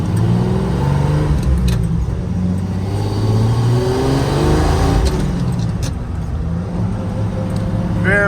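A 1985 Jeep CJ7 fitted with Holley Sniper EFI drives on a test run, its engine droning loudly and steadily from inside the cab with pitch rising and falling as the throttle shifts.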